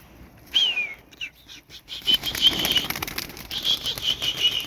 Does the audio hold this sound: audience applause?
no